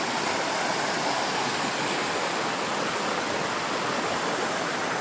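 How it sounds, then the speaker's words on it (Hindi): Water rushing steadily along a rocky stream, a loud, continuous broadband wash with no pauses and no voices. "और पानी देखो"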